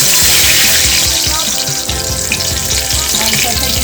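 Dried fish frying in hot oil gives a loud, steady sizzle that runs without a break from start to finish.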